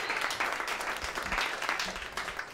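An audience at a San Francisco startup showcase event applauds steadily, the dense clapping fairly quiet and continuous throughout, with no talking over it.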